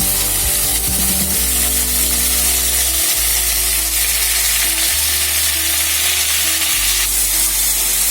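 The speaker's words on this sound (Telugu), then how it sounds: "పచ్చి టమాటా ముక్కలు వేగుతున్నాయి." Green tomato pieces fry in a pan with green chillies, giving a steady, loud, close sizzle that runs the whole time, with a few stirring shifts along the way and no voices.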